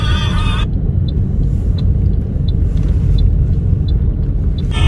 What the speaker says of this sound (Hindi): अब जो है वो जान भाई अपनी ड्राइविंग दिखा रहे हैं यहाँ पे